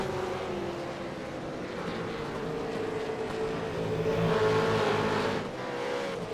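Supercars race cars at Barber Motorsport roar continuously as they hammer over the track curbs, a dense, loud engine wash that swells toward the end of the pass.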